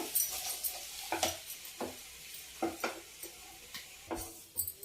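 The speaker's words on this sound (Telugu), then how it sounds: "చక్కగా కలిపేసేసి సిమ్లో పెట్టుకొని కలుపుకోవాలండి మనం" A spoon stirs aloo 65 in a pan over a low flame, giving soft intermittent scrapes and clinks over a faint sizzle, with no talking.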